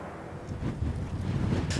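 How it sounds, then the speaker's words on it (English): Strong wind buffets the microphone in wild weather near a beach, a low rumbling gusty roar with rustling that swells slightly toward the end. "The wind had strengthened and the weather was wild."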